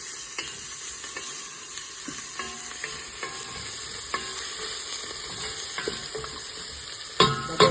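Steady crackling sizzle of spices and crushed garlic frying in hot oil for Hyderabadi chicken biryani, with occasional stirring clinks and a louder scrape near the end, no voices.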